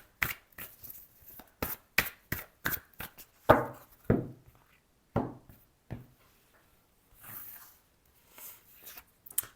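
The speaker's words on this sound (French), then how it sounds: "Donc on va tirer nos 3 cartes." Tarot cards are shuffled and drawn in a series of crisp, close flicks and slaps, irregularly spaced, with a few softer rustles near the end and no talking.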